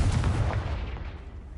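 A blasting spell in the Hogwarts Legacy video game on PlayStation 5 lets off a heavy booming explosion, a deep burst that rumbles and fades over about a second and a half.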